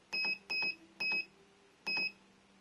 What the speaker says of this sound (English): You'll hear 2 beeps.